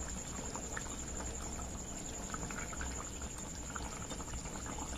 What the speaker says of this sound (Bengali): মাছগুলো দিয়ে এবার একটু ভালো করে ফুটিয়ে নেবো